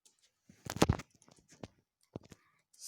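A computer keyboard is tapped in a few sparse, sharp clicks. A small cluster comes near the start and isolated taps follow, each one brief and close, against silence.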